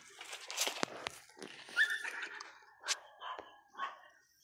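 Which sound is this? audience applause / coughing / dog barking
dog barking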